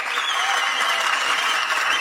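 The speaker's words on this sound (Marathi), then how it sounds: "टाळ्या टाळ्या पैलवानसाठी" Crowd applause for a wrestler at a traditional Marathi kusti wrestling event, a steady dense clapping that holds evenly through the whole stretch with no voices over it.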